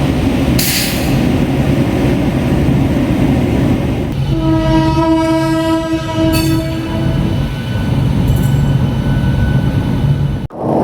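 A WAP7 electric locomotive from the Santragachi shed, hauling the Howrah–SMVT Bengaluru Duronto Express, rumbles past amid steady rail noise and sounds a loud, sustained multi-tone horn for several seconds in the middle.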